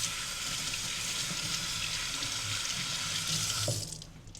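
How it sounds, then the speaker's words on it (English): Water runs steadily from a kitchen tap as gloves are rinsed under it, a continuous close splashing hiss that cuts off abruptly near the end. "I gotta wash my gloves."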